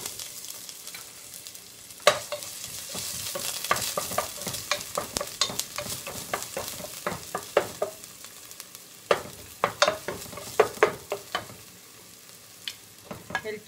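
Onion sizzling in a pan for creamy macaroni, a continuous frying hiss broken by frequent sharp scrapes and taps of a utensil stirring, close and fairly loud.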